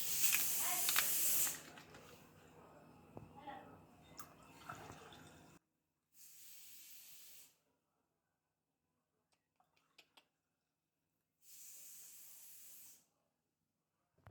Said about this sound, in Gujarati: હવે તેમાં આપણે સાદી સોડા નાખીશું.